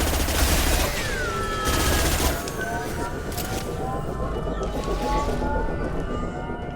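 Sustained gunfire during a Mass Effect 2 battle, a dense continuous fusillade with whizzing effects and a heavy low rumble, loud throughout, with voices in the mix.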